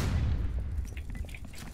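A flashbang grenade goes off in the tactical video game Due Process, a loud close boom that rumbles and fades out over under two seconds.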